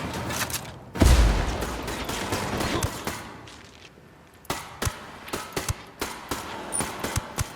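Gunfire in Ghost Recon Wildlands: a heavy opening shot, then scattered single shots and quick bursts of rifle fire at varying distances over a game soundscape, with no talking.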